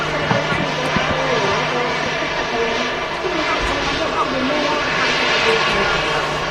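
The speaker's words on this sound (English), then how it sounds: "And this EasyJet is in from Palma." An EasyJet airliner arriving at Manchester Airport on a hot day, its engine roar a steady, moderately distant wash that holds evenly throughout, with a voice talking faintly underneath.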